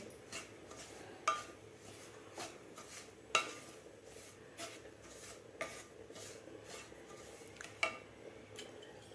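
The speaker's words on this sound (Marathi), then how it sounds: "मिडियम गॅसवर चांगला रवा भाजून घ्यायचा आहे" Semolina (rava) dry-roasting in a pan over medium heat while a spoon stirs it, producing a soft continuous scraping with occasional sharper clinks of metal against the pan, close and fairly quiet.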